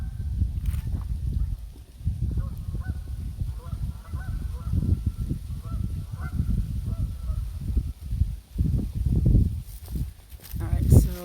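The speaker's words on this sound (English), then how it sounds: "More geese over here." Geese honk repeatedly outdoors on coastal bluffs, their calls irregular and moderately distant over wind, rustling and footsteps, with a person talking at times.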